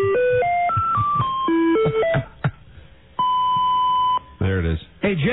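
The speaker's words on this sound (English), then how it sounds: "I don't think Jesus would have a lame answering machine like this" A cheap answering machine plays a run of stepped electronic tones, then a long steady beep, followed by voices talking over the line.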